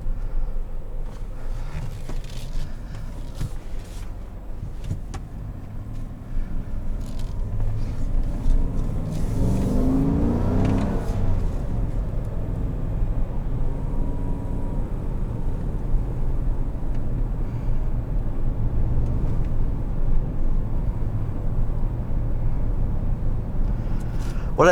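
A 2017 Chevrolet Tahoe LT with a 5.3 liter V8 rumbles steadily over a bumpy road, heard from inside the cabin, with a low, continuous engine and road drone throughout.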